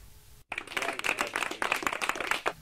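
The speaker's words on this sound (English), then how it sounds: "Give a round of applause for the Spanish team and their captain" A crowd applauds for a Spanish team and its captain, a steady burst of many hands clapping that starts abruptly and runs on densely for a couple of seconds.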